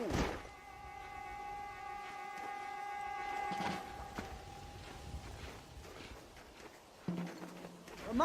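Horses ridden in the Red Dead Redemption video game, with hoof clip-clops and thunks over a sustained tonal game soundtrack, slowing mid-clip and picking up again near the end.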